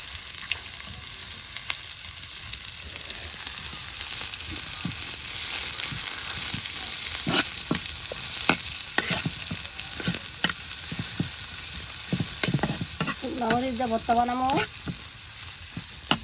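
Chopped garlic and onion fry together in oil in a home kitchen, a constant close crackling sizzle with scrapes and taps from stirring throughout, and a brief voice near the end.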